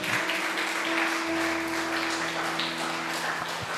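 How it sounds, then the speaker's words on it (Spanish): A church congregation at a Sunday service gives a loud, sustained round of applause, steady throughout with a sustained tone ringing underneath. "¿Cuánto le dan un fuerte aplauso al Señor?"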